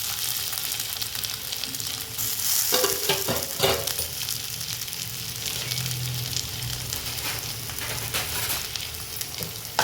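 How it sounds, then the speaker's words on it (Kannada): Grated potato is worked into aloo roti dough in a bowl, giving a close, steady soft rustling and scraping texture with a few brief louder scrapes and no talk. "ಚೆನ್ನಾಗಿ ಮಿಕ್ಸ್ ಮಾಡ್ಕೊಳ್ಳೋಣ."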